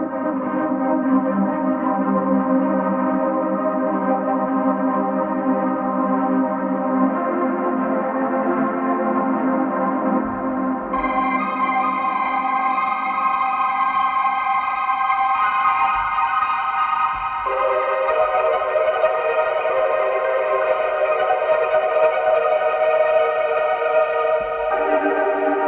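Hybrid orchestral and granular sampled textures, dense sustained layers that shift in tone and brightness as the mod wheel is moved, changing character around the midpoint and again near the end, steady and loud throughout with no talk.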